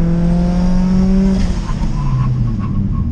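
A Mitsubishi Evo X brakes hard from 60 to 40 while its custom brakes are being bedded in, giving a loud, steady engine and road roar with tire noise and a tone that drops as the car slows.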